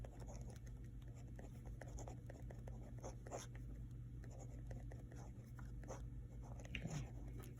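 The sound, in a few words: writing on paper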